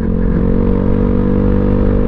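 A Honda Vario160 motor scooter with lengthened engine mounting on a test ride, its engine droning steadily and loudly up close with a low throbbing hum and faint rattle throughout.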